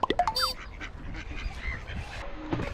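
Ducks being fed bread beside a lake give a burst of sharp quacks and honks at the start, then a lower mix of splashing and movement nearby, with a few calls near the end.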